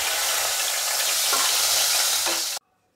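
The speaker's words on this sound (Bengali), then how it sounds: "এবার আমি মাছগুলো ছেড়ে দিচ্ছি ভাজার জন্য" Koi fish for a Bengali cauliflower curry fry in hot oil with a loud, dense, continuous sizzle close by, a brief stirring scrape partway through, then cut to silence.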